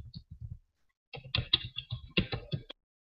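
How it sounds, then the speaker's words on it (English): Keyboard typing on a computer: two quick bursts of close, crisp key clicks, a short group of strokes, a pause, then a longer run of rapid taps, with no talking. "I'm just going to type color picker."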